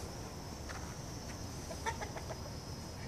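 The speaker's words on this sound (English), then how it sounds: "look at all those chickens over there" Chickens clucking in a farmyard, soft scattered clucks a short distance away over faint background hiss and a steady insect-like whine.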